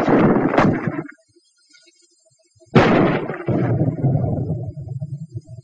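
Armor-piercing ammunition is fired at a wall in a 1940s military demonstration: two loud, sharp blasts, each followed by a rumbling decay, separated by a short silence.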